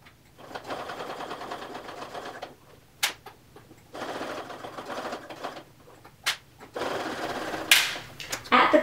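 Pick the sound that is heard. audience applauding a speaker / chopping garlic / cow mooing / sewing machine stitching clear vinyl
sewing machine stitching clear vinyl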